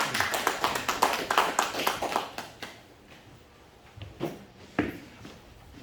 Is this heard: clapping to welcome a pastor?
yes